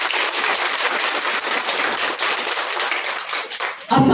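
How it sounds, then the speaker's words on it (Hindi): Audience applause at a Hindi talk on Babasaheb Ambedkar's teachings, a dense, steady burst of many hands clapping that stays loud throughout, with a brief sharper knock at the end. "ताली आप लोगों के लिए।"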